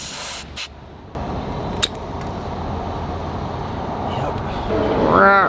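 Air hissing from the valve of a low left rear tire on an RV while its pressure is checked by hand with a gauge, a steady broadband rush running under outdoor traffic noise, with a brief sharp burst near the start.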